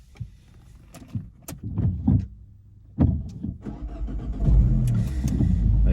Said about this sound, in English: So when you're ready, start the engine.